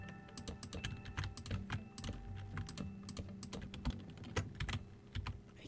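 Close, sharp key clacks from a clicky computer keyboard patter in quick irregular runs, each stroke distinct, over a faint background tone from a quiet Minecraft session, with no voices.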